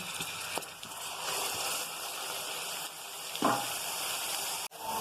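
Onion paste sizzles and fries steadily in a hot pan while a chickpea curry is being made. The hiss is continuous and close, with a couple of stirring knocks and no talk.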